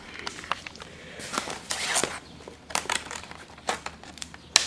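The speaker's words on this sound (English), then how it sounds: "Now just easily remove that packaging." Plastic clamshell packaging pulled off a Midland weather radio: crinkling, snapping plastic and scraping rustles in uneven bursts, close and fairly loud, with no talk.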